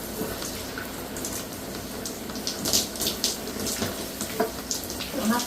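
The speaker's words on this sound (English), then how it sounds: "you can just make sure you do a good spray on them" Water sprayed onto luffas hanging from hooks, a continuous close hissing gush with irregular splashy surges, no talking over it.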